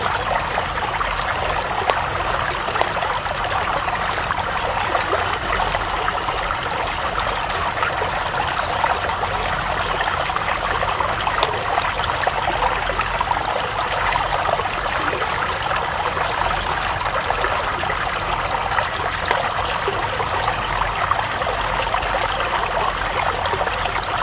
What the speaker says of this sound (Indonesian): Dan juga ditemenin sama air mengalir